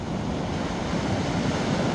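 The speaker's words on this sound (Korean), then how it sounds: "이렇게 파도가 센 거는 처음입니다" Strong sea waves surging onto Dongho beach in Gochang on a November afternoon, a continuous roaring wash of surf mixed with gusting wind, loud and close with no pauses.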